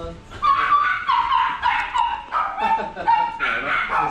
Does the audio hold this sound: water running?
no